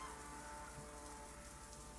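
Steady hiss of running water from a tap as a character washes their hands in a realistic horror video game, a continuous close rush with faint tonal game hum beneath and no talk.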